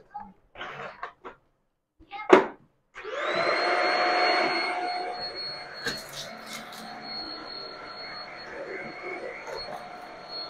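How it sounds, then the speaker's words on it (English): A few short knocks and clicks, then a Shark corded vacuum cleaner switches on and runs with a steady whine and airy roar, close by. "This vacuum is perfect for pet hair and stuff"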